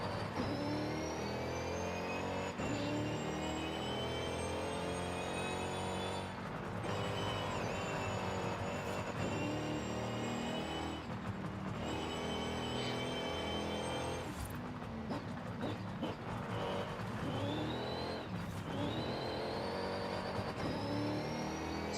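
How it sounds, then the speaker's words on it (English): A car's turbocharged engine in the racing game Forza Horizon 5 drones steadily with rising and falling whine tones as it revs and shifts, continuous and even in level over a long stretch. "Turbo whine is such a nice sound to hear."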